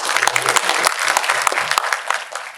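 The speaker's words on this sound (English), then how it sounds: "Deserved an applause." An audience at a Q&A session bursts into applause, a dense burst of clapping from many hands held steady for a few seconds with no one speaking over it.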